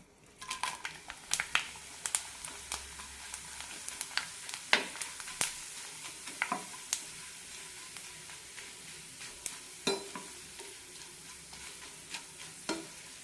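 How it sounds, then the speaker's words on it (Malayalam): Sun-dried bitter gourd pieces frying in hot oil, with a steady sizzle punctuated by sharp crackles and stirring clicks of a utensil against the pan throughout, close and moderately loud. "കുറച്ചെടുത്ത് വറുത്ത് നോക്കാം."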